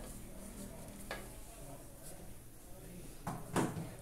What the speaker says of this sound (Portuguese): Aqui na panela eu vou colocar o meu açúcar.